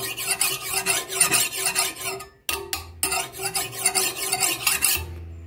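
Steady rasping strokes of a hand file across a forged steel blade for a small Arabic zulfikar-style knife, rhythmic back-and-forth scraping that stops briefly mid-way and then resumes, close and fairly loud.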